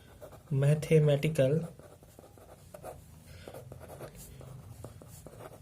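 Marker or chalk scratches steadily across a board as a formula from Faraday's law is written out, a soft, continuous scribbling heard close up after a short burst of someone speaking.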